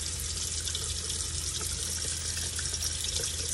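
Running tap water pouring steadily into a sink while makeup brushes are scrubbed clean against a scrubbing pad, a constant close splashing wash with no talk.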